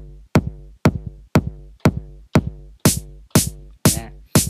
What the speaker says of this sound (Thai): พอผมได ้กระเดื่องใช่ไหมครับวิ่งอย่างนี้แล้วผมจะใส่แฮทลงไป